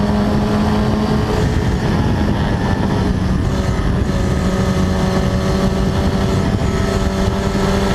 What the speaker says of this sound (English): He's following Chris Sharples, turning through Bombhole and down towards Coram Curve